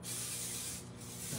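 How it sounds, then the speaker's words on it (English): A steady, close hiss of cooking spray sprayed into a pot runs for over a second without pause, with a faint low hum underneath. "Use a little bit of spray."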